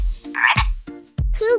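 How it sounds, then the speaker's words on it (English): A frog croaks several times in short, close bursts, with a brief pause between calls, presented as a sound to guess in an animal-noise game for kids. "It's a frog."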